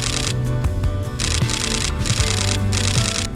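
Rapid bursts of a camera shutter firing in continuous high mode while photographing birds in a foggy city, clustered clicking runs repeating several times over steady low background noise.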